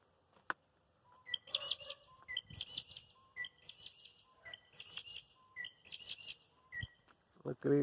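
Birds chirp and call outdoors in Australia, bright repeated tweets and short whistled phrases in clusters, fairly close and clear, with a brief low sound near the end and no talking.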